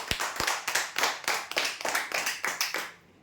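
A crowd claps for a prize draw winner, a dense burst of applause with rhythmic peaks that carries on steadily and then stops abruptly.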